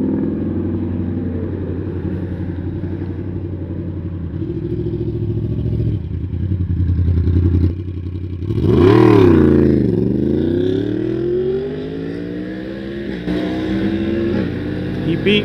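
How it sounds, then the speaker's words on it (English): Heard from a 2023 Honda Trail 125 while commuting, another motorcycle comes up from behind and sweeps past, its engine swelling loudly then sliding down in pitch as it moves away, over the steady drone of the small bike. "Oh, there's a real motorcycle behind me."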